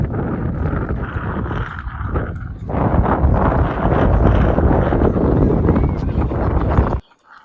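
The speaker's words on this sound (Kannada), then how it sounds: "ಎಷ್ಟು ಗಾಳಿ ಬೀಸ್ತಾ ಇತ್ತು ಅಂದ್ರೆ ಅಲ್ಲಿ ನಿಂತ್ಕೊಂಡು ಒಬ್ಬೊಬ್ರೆ ಹೋಗೋದಕ್ಕೆ ಒಂಥರ ಭಯ ಆಗೋದು." Strong wind buffets the microphone on an open hilltop, a loud continuous rumbling roar that swells midway and cuts off abruptly near the end.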